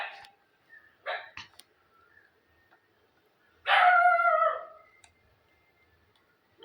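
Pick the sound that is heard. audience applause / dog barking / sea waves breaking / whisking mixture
dog barking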